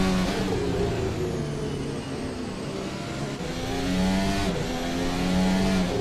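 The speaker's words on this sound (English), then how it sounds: "Colin Edwards trying to reverse, trying to get it into gear, but he is beached on the gravel." Race car engine revving steadily while beached in a gravel trap during a Pinwheel GP race, its pitch rising and falling as the driver tries to reverse and find a gear; loud and continuous, with no voices.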